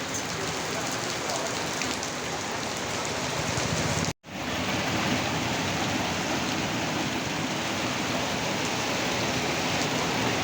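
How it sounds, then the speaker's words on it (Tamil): Heavy rain pours down outside a cinema in Thanjavur, a dense and steady roar of falling water that stays loud throughout, broken only by a brief moment of silence near the middle. "தஞ்சாவூரில் அடிச்சு கொளுத்துது மழை."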